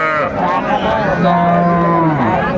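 A Sahiwal cow with her calf moos loudly and close at a busy weekly village cattle market, one long drawn-out bellow filling the moment.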